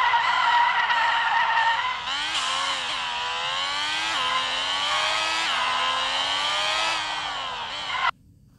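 Crown Victoria engine from the Legendary Cars mobile game, a steady buzzy synthetic drone whose pitch climbs and dips with throttle changes, loud and alone, cutting off abruptly near the end.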